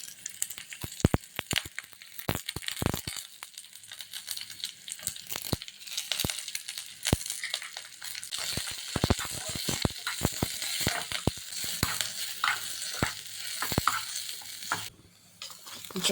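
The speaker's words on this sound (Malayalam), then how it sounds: "കടുക് പൊട്ടിക്കാനായി കടുക്, കുറച്ച് ഉലുവ, ചെറിയ ഉള്ളി ചെറുതായി അരിഞ്ഞ് വട്ടത്തിലരിഞ്ഞ ചെറിയ ഉള്ളി ഒന്ന് മൂക്കണ വരെ നമുക്കൊന്ന് ഇളക്കി കൊടുക്കുക." Mustard seeds, fenugreek and thinly sliced shallots splutter and sizzle in hot oil in a pan while being stirred for a Kerala drumstick, mango and dal curry; continuous crackling broken by sharp pops and spoon scrapes, close and steady with no talking.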